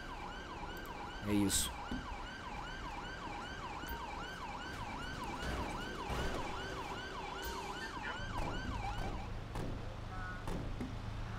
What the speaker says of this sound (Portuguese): Ó, a ambulância já chegou ali, ó.